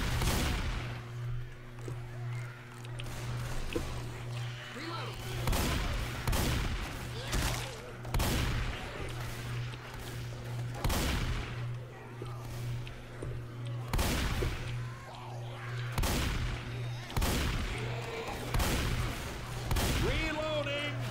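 Gunfire in the zombie shooter Left 4 Dead 2 on a farmhouse finale: repeated sharp shots and bursts at an uneven rhythm over a steady low hum, with players talking throughout.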